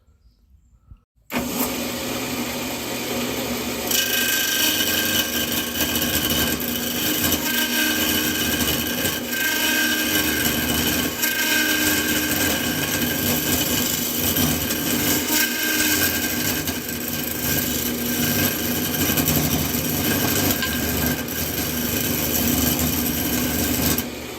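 A steady, continuous whirring and scraping of a segmented cherry wood vessel being turned on a lathe, loud and close, running without pause after a brief quiet start.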